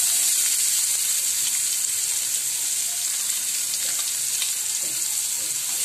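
A large chopped onion and a bay leaf fry in oil left over from frying eggs for dhaba-style egg masala, producing a loud, steady, dense sizzle with occasional faint stirring.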